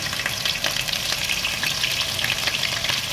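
Ginger garlic paste frying lightly in a karahi for a black pepper chicken dish, giving a loud, dense, even sizzle with faint crackling throughout, close up and without talk.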